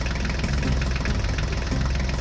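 A truck engine idles steadily and close by, with a low, rumbling, slightly knocking throb that holds even for the whole stretch and has no voices over it.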